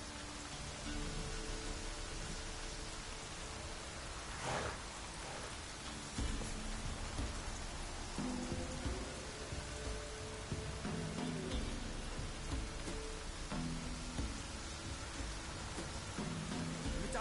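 Steady rain pours in a Witcher game scene, a dense constant hiss of drops on surfaces with faint low rumbles underneath, loud and unbroken throughout.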